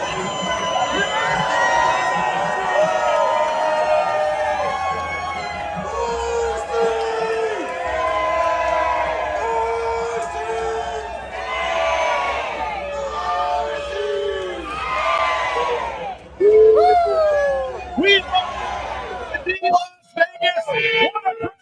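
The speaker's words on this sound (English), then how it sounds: "we got a huge crowd that's fired up here, 200 plus people live here at the D Las Vegas" Lively crowd of 200-plus people at the D Las Vegas before a Boise State game, whooping and cheering loudly and continuously throughout, with voices talking and shouting among the noise and a few sharp peaks near the end.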